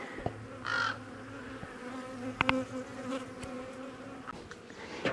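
Bees buzz around an observation hive, a close, intermittent droning hum with a louder pass near the start, over quiet background rustles and a few sharp clicks.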